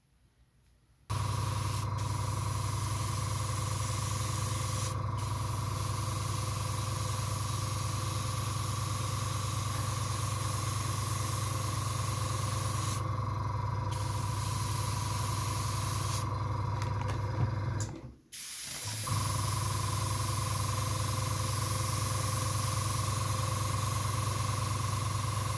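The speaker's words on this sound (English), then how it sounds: "I'm going to spray them all with Vallejo Model Air 71111 USAF Light Blue" Steady, close airbrush hiss sprays Vallejo Model Air USAF Light Blue paint onto model parts for an Italeri USS Essex CV-9 kit, running continuously for about twenty seconds with one brief break near the end and no talking.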